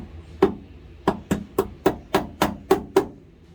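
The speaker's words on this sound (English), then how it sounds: "So it's all hammer work from here." Eight sharp hammer blows ring out on the metal of a 4x4 Astro van, creating tire clearance, at a steady, unhurried pace, close and loud, each strike decaying quickly into quiet.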